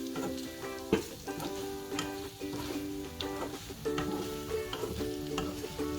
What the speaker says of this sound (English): Then you stir it a little so that it's evenly spread out